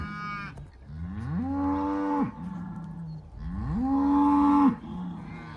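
Cattle in a farm yard letting out two long, loud, close moos, each rising and holding before dropping off, with no talking.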